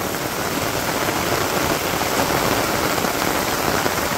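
Steady rain falls on a Bangladeshi village in the rainy season, a dense continuous hiss of drops that holds at an even level throughout, with no voices.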